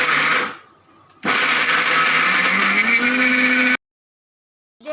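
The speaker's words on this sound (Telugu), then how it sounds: "ఆ తర్వాత రొమ్మని మిక్సీ పట్టేయండి" Mixer grinder blending ginger chutney with jaggery, loud close whirring in two bursts, a short one that winds down, then a longer run that rises in pitch before stopping abruptly.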